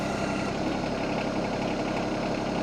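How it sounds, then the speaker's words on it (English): Yanmar SA425 tractor engine idling at low speed, a steady continuous mechanical rumble with even loudness throughout and no voices. "And I've got the engine just idling, so it's not running very fast"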